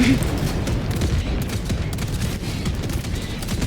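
Bombs exploding in Helldivers 2, a dense, continuous barrage of loud blasts and rumbling booms that rolls on without a break, with faint talk mixed in.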